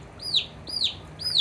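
A baby chick being cleaned for pasty butt gives three loud, high peeping chirps, evenly spaced about half a second apart, close to the microphone with no talking.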